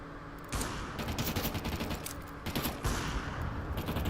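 Kalashnikov rifle fire in Counter-Strike 2 comes in rapid automatic bursts that are dense and rattling, with short breaks between them. The shooting is fairly prominent and has no talk over it.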